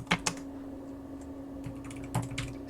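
Quiet keystrokes on a computer keyboard tap out a short command, a few scattered clicks at the start and again near the end over a faint steady hum.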